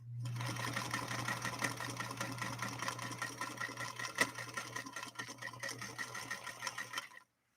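A Centennial Singer 99K hand crank sewing machine stitches fabric in a steady rapid clatter with a low hum underneath, running continuously close by before stopping abruptly at the end.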